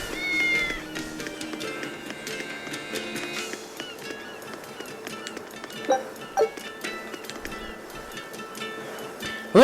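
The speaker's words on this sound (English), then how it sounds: "Cats." Cats in a city street in Tales of Berseria, several short meows scattered across a busy background of light music and ambient town sounds, moderately loud and fairly close.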